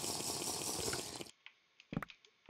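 Flowing water in the video game Sky Factory 4 rushes steadily and fairly loud for over a second, then cuts off abruptly, leaving a few faint clicks and one short splash-like burst.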